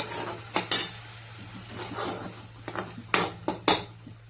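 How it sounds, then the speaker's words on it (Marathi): A spoon stirs cauliflower and chana dal frying in oil in a pan, giving a few sharp metallic scrapes and clinks over a soft low sizzle and steady hum, close and without talking. "2 ते 3 वेळेस याला तेल सुटेपर्यंत छान हलवून घ्यायचंय"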